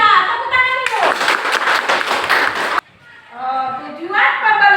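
Children in a classroom clap together in a loud, dense burst of about two seconds, with a voice heard before it and a teacher's voice after it.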